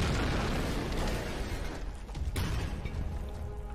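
A gunshot in Tomb Raider sounds as a loud, booming burst followed by a sharp crack, over heavy rumbling ambience.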